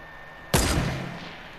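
A single sharp sniper rifle shot in Fortnite cracks out of a quiet hum, followed by a long rumbling echo that slowly fades.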